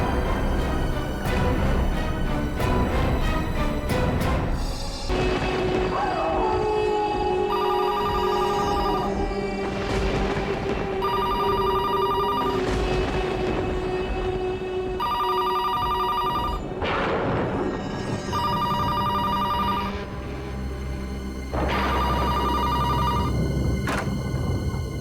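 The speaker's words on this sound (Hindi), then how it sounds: "दिन में तो कभी फोन की घंटी बजती नहीं।" A telephone bell rings in repeated bursts late at night over a loud, dramatic music score, the electronic rings recurring at regular intervals across the scene.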